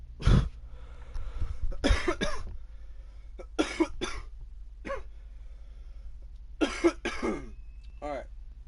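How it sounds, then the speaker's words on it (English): A man suffering a bad cough lasting weeks coughs hard in several harsh bursts and clears his throat, close and loud, separated by quiet pauses. "Still going through this bad cough."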